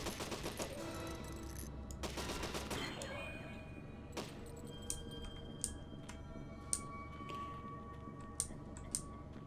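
Rapid automatic gunfire in the video game Deadly 30 fills the first few seconds, followed by sparse, sharp single shots and ticking clicks spaced out over a low background.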